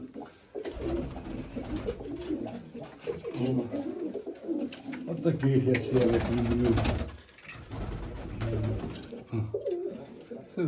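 Nikolaev pigeons coo in repeated soft, low rolling calls from a nearby loft, while someone speaks over them intermittently.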